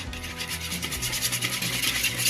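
Lemon zest grated for a sugar-free cheesecake, a close, steady rasping scrape with repeated rhythmic strokes, continuous and moderately loud, with no talking.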